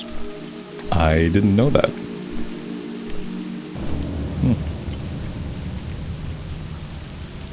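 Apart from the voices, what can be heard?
rain in Deadwind Pass, World of Warcraft Classic video game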